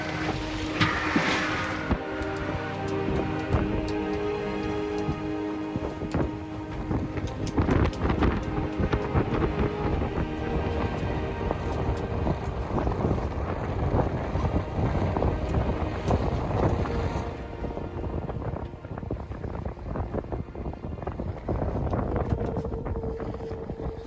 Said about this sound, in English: each time we rock back over, it just flogs the sails